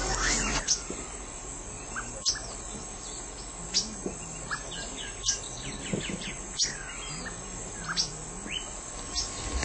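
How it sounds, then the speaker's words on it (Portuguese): A sabiá thrush sings outdoors in the morning, repeating clear whistled phrases at a regular pace, moderately near, over a constant high insect drone. "E o que o sabiá anda fazendo? O que ele está fazendo agora de manhã?"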